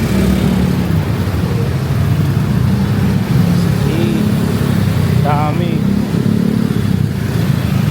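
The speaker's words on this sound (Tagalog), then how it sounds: "Bilangin mo kailang motor yan." Busy Philippine street traffic with many motorcycles and cars, a steady dense engine drone and rumble throughout, with a brief horn-like tone near the end and a voice speaking briefly over it.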